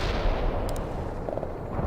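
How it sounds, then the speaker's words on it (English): Artillery barrage in the real-time strategy game World in Conflict, a dense, heavy rumble of distant blasts rolling on continuously with short sharper reports mixed in, no voices. "Fire mission received. Artillery barrage inbound."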